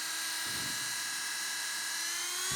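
A high, steady whine of a small WORX rotary tool running continuously, with a faint abnormal rubbing grind under it, close by.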